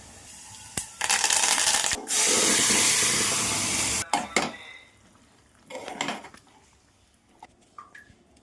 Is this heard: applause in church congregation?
no